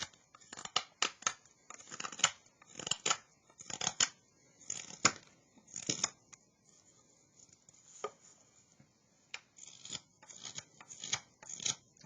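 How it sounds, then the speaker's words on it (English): Mora 162 hook knife carving wood: a close, dry rasp of repeated short shaving strokes, each a scratchy hiss in uneven bursts with brief pauses, quiet overall and free of talking. "Just kind of like do my best to run the knife across the surface, and pieces will keep coming out."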